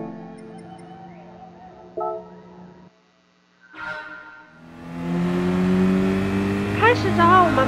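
A race car engine in the Gran Turismo Sport racing game idles, then swells into a loud, sustained rev and acceleration over the second half, with a few short sharp sounds earlier on.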